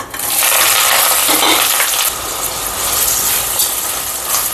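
Onions, green chilies and curry leaves hit hot oil in a chicken curry pan, giving a loud, steady sizzle and crackle that holds for several seconds with no talking.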